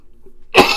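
A single harsh cough from someone sick with flu bursts out after a moment of near silence, close and loud.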